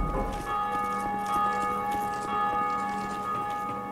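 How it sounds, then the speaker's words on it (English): A bell rung in a belfry, a sustained ringing tone with layered metallic overtones that holds steadily for several seconds, fairly close with faint background clatter. "I'm gonna ring my bell."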